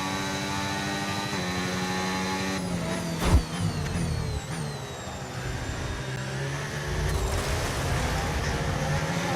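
A Formula 1 race car in a video game runs off into the gravel at the Austrian circuit, its engine a loud sustained whine with gear shifts, a sharp thump and a rumbling scrape.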